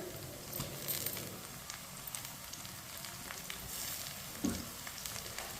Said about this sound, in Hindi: लहसुन को भी 1 मिनट के लिए पका लेंगे। इसे ऐसे ही चम्मच चलाते हुए पकाएं।